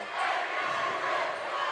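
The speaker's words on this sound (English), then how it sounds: "if you're hearing some very loud screaming, we have the Notre Dame cheer team right in front of us here tonight." Loud crowd din at a high school basketball game, with the Notre Dame cheer team screaming close by, a steady, dense wall of shouting voices sustained throughout.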